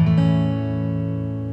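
A major chord strummed once on guitar, ringing out alone with a bright attack and a long, steady sustain that slowly fades.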